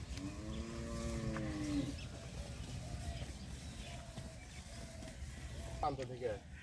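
A cow lets out a long, low moo nearby, followed by crowd murmur and people talking in an open, busy cattle market.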